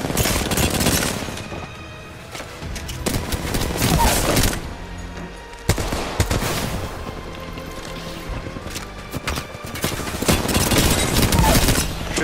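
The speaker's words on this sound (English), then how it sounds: "Let me just shoot for pressure" Sustained automatic gunfire in a ranked Apex Legends match, dense rattling bursts and booming shots with little break, loud and close under occasional voice.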